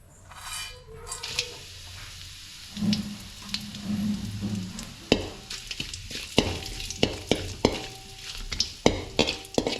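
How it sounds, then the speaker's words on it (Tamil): Whole spices including bay leaf, stone flower, star anise, cinnamon, cardamom and cloves frying in hot oil, a steady close sizzle with scraping and clattering of a stirring spoon that grows busier toward the end. "பட்டை வகை எல்லாமே வந்து பொரிஞ்சிருச்சு"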